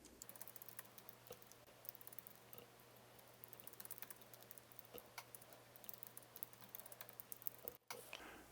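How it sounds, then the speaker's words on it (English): Soft, faint keystrokes on a computer keyboard tap in irregular bursts for several seconds, with a short gap near the end. "Let's type something in."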